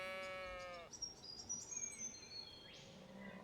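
A single sheep bleats close and clear for about a second in the fantasy game Roadwarden, followed by soft chirping birds and faint insect ambience in a quiet meadow.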